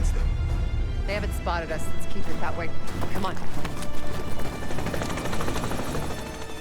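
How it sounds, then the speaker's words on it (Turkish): Military helicopters pass overhead in the Call of Duty Black Ops 6 video game, their rotor thumping mixed with game effects while someone talks over the scene. "Üstümüzden geçen askeri helikopterlerin Iraklılara ait olmadığını"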